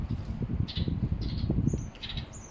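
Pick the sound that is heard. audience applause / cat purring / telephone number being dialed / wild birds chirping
wild birds chirping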